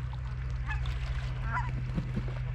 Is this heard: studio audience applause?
no